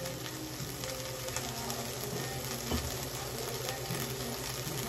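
Dense, continuous sizzling of food frying in hot oil, steady and loud up close, with a constant hiss and no voices.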